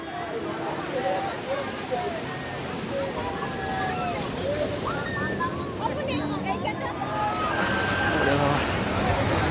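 Sea waves at full high tide on Digha beach, a continuous broad wash of surf with distant crowd chatter and occasional faint whistles or calls layered over it.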